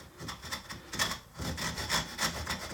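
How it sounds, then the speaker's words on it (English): A hand saw cuts a shallow kerf in ukulele wood, its close rasping strokes steady and rhythmic, about a dozen back-and-forth passes with no talking. "line up this line here with our kerf line, line up our saw, and just gently"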